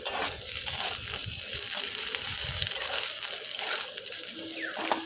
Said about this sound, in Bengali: তো দেখো আলুগুলোকে একটু ভালো করে ভেজে নেব, একটু হালকা লালচে করে ভেজে নেব।